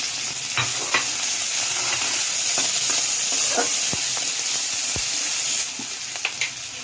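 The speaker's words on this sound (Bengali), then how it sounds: "রসুনটা ছেড়ে দিলাম, আবার কাঁচা লঙ্কা যে চিড়ে রেখেছিলাম ওইগুলো দিয়ে দিলাম, পেঁয়াজ কুচি দিলাম" Garlic, slit green chillies and chopped onion frying in a pan make a loud, continuous sizzle, broken by repeated sharp taps and scrapes of a spatula, easing slightly near the end.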